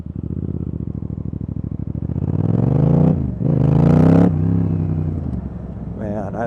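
A motorcycle engine idles with a rapid, loud putter, then revs up twice in strong swells before settling back, heard close and on its own.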